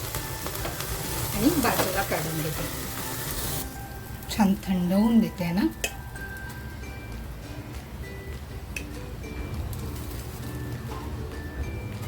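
Paneer tikka sizzles steadily in ghee on a home stovetop after being flipped, a soft continuous frying hiss beneath someone speaking, with a few brief louder clatters of turning the pieces.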